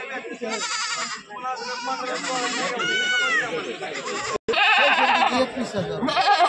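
Several goats bleat loudly and repeatedly nearby at a goat market, their wavering cries overlapping with people talking over a busy background.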